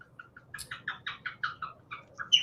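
Pet birds indoors give a quick series of soft chirping calls, about a dozen short notes in steady rhythm, faint and close, with no talk over them.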